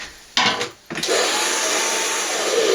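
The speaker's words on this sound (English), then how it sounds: "we're just going to blow dry it down" A hair dryer blow-dries a freshly cut full fringe, a loud steady close whoosh that starts abruptly, cuts out briefly, then runs continuously to the end.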